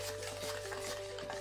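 Faint, steady stirring of a thick homemade face mask mixture in a small bowl gives a soft continuous swishing scrape with a low hum in the background and no talking.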